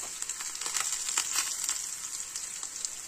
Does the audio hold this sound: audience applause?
no